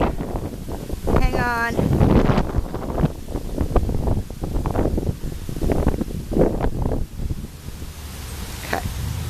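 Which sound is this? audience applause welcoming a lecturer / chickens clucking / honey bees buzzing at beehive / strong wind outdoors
strong wind outdoors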